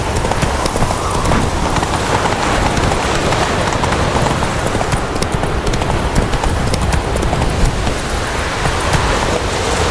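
Roach, a horse in The Witcher 3, gallops at a steady clip-clop rhythm of hooves, loud and continuous, over a dense bed of rain-like ambient noise.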